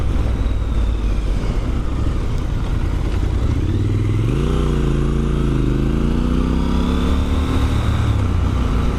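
Triumph Scrambler 1200 XE triple engine heard while riding, a loud, close steady drone with rising and falling revs as the rider shifts gears, and wind noise throughout.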